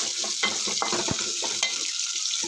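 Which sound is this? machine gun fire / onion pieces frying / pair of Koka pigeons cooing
onion pieces frying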